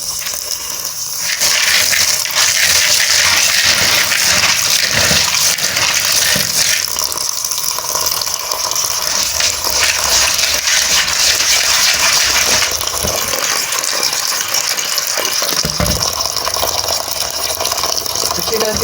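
Tap water gushes loudly and continuously over red beans (lobia) being washed in a bowl, with splashing and swirling as the beans are rinsed by hand close by.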